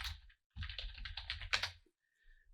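Computer keyboard keys are typed in quick bursts of close, crisp clicks while a search query is entered, with short pauses between the runs and a few faint taps at the end.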